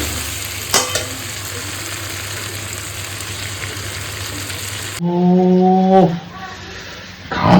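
Rice sautéing in a pan hisses and crackles steadily for about five seconds, with a sharp scrape near the start, then the sizzle cuts off and a tonal, humming sound fills the last seconds.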